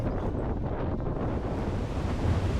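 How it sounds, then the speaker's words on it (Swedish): Coastal wind rumbles against the microphone while waves wash on the shore along a Swedish coastal hiking trail, a loud continuous blustery roar with no voices. "Nere vid havet."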